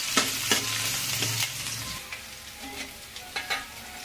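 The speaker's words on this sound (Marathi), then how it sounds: "त्याच्यामध्येच आपल्याला हिरवी मिरचीचे तुकडे घालायचे." Green chili pieces and coconut fry in a pan for murmura chivda, giving a steady close sizzle with a few light scrapes and clinks of stirring at the start.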